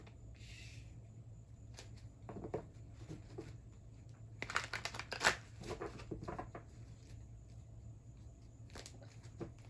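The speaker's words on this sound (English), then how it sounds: "Let me shuffle it a few times after that." A deck of cards is shuffled by hand in a quiet room, several soft riffling bursts and flicks with short pauses between them, fairly close and otherwise alone.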